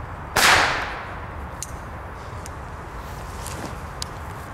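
A firecracker bursts once on ice outdoors, a sharp loud crack with a ringing decay, followed by faint scattered ticks and light rustling.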